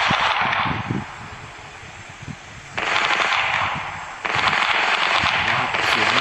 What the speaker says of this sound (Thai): เขาน่าจะยิงกันอยู่ตรงนู้น